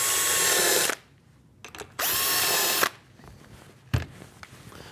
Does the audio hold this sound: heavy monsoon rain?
no